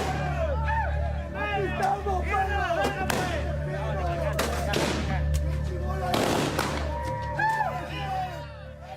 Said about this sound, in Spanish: Los antimotines desplegaron su estrategia y hubo disparos.